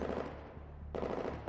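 Game combat in Neural Cloud: dense, rumbling bursts of gunfire and blasts, fading briefly then surging again abruptly, loud and continuous with no talking.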